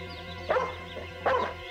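A dog gives two sharp barks indoors in a family home, spaced under a second apart, over a faint steady background hum.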